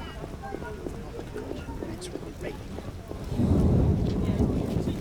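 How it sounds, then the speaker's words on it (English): Heavy rain and a thunderstorm in The Witcher video game, a steady wash of rain that swells into a louder, denser roar partway through, with low rumbling underneath. "Raining so hard I can't see anything."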